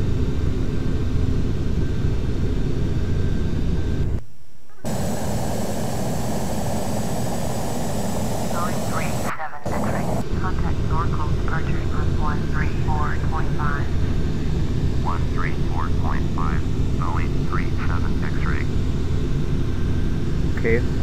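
Boeing 737 jet engines in Flight Simulator X hold a steady, loud drone through the takeoff climb, with someone talking over it nearly the whole time.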